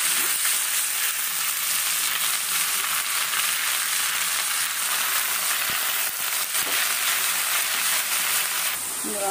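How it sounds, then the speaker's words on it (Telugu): A South Indian tempering of fenugreek seeds and red chillies fries in hot oil for an amaranth leaf and sesame chutney, giving a loud, steady, close sizzle and crackle with occasional stirring scrapes. "పోపు వేగింది కదండి"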